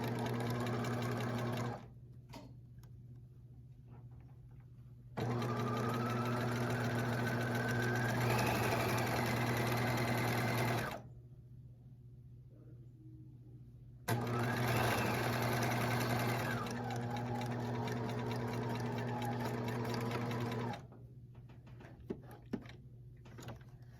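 Sewing machine back tacking a seam finish runs in two long, steady whirring bursts of several seconds each, separated by pauses, loud and close with no talk.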